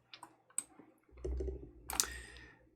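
Mouse clicks on a software tab at a computer desk: a few sharp, quiet taps spaced apart, with a soft low hum and faint rustle in between.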